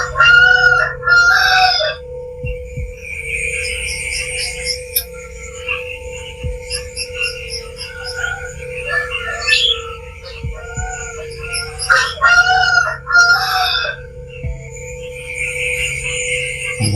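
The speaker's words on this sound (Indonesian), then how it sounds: "soalnya ada ayam teman-teman ya" A rooster crows loudly and close, twice, with other hens clucking and birds chirping in between over a steady background hum.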